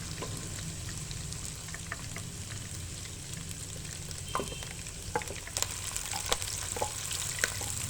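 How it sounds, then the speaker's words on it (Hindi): Garlic and ginger frying in oil for stuffed keema karela, a steady close sizzle with scattered crackles and pops throughout, no voices. "लहसुन और अदरक दोनों को ऐड कर देना है। और इन दोनों को थोड़ा सा पका लेने के बाद"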